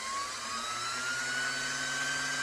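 Singer 503-A sewing machine motor running free with the hand wheel disengaged, a steady close whirring hum with a thin whine that slowly climbs in pitch, continuous and without talk.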